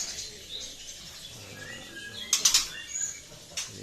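Lovebirds in a cage at a bird farm flutter their wings in a few quick bursts, with scattered high chirps and tweets over quiet background hiss.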